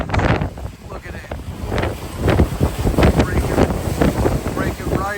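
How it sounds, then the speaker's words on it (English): Nor'easter storm waves breaking over a seawall in Ocean City, New Jersey, heavy crashing surges under strong wind buffeting the microphone, with a person talking over the roar. "Breaking right over the seawall."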